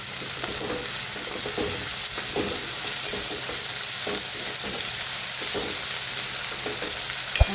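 Cabbage fries in hot oil with the flame turned off, a constant close sizzle layered with frequent stirring scrapes and soft knocks, ending on a sharp clack.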